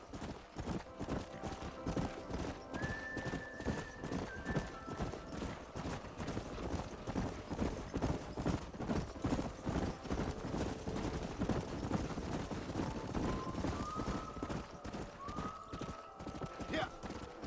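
Horses clip-clop steadily through the Red Dead Redemption game world, hooves beating in a continuous rhythm, with a couple of whinnies cutting in near the start and end while people talk over the scene.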